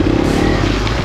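A Kawasaki KLX140RF dirt bike rides a trail, its engine close and loud with a buzzing, revving drone mixed with rattling clatter over a brief moment.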